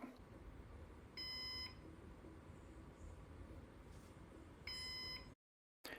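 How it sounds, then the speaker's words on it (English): A Synology DS718 Plus NAS beeping after a drive failure, two loud sustained electronic beeps spaced a few seconds apart over a low hum, close and alone. "when the drive failed, my DS718 Plus started beeping"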